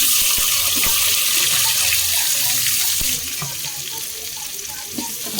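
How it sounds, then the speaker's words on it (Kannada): Onions frying in hot oil for prawn biryani, a steady loud sizzle with a broad hiss that holds constant, easing slightly partway through, with a few faint clinks and no talk. "ಈಗ ಈರುಳ್ಳಿ ಫ್ರೈ ಆಗಲಿ ಬನ್ನಿ ಫ್ರೆಂಡ್"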